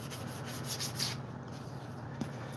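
Close, soft rubbing strokes of a sanding block on wood, a few quick passes followed by quieter scraping.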